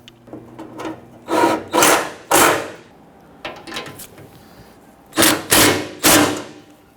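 Bolts being snugged down by hand on a 2006-2010 Hummer H3 during a parking brake cable job: short, rough ratcheting bursts in uneven groups, close and fairly loud, with quiet gaps between.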